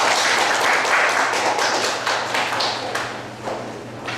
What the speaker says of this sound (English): we can appreciate both speakers by giving our hands with the applause